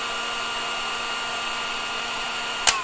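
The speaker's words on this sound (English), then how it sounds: "You blow the hot air gun on it for a few seconds" A hot air gun blows on heat shrink tubing while an XT30 cable connector is being built, giving a steady close blowing whir with one brief click near the end.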